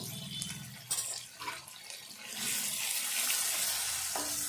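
Spinach frying in a pan after salt and turmeric are added, a steady hiss of sizzling with scraping stirs, the frying noise swelling louder and denser in the second half.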